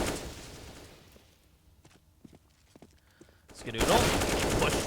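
Gunfire in the Counter-Strike map Cache during a competitive match: faint scattered shots and clicks, then a loud burst of firing near the end.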